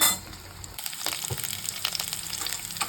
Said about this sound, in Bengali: গোটা অবস্থায় পটলগুলো ছাড়ছি, আর তার সঙ্গে আমি আলুগুলো ছেড়ে দিচ্ছি।